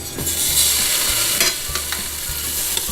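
Ribs are dropped into a hot pan and sizzle loudly, a steady close frying hiss with scraping and knocking as they are moved about.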